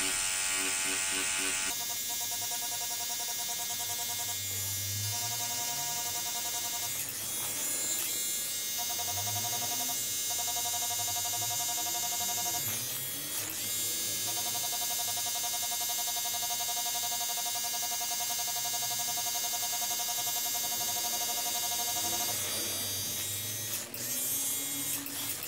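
Tattoo machine running continuously as the needle skims lightly over the skin while a realistic skull is shaded, a steady electric buzz with tonal hum lasting throughout, close and fairly loud, with brief pauses and shifts in pitch.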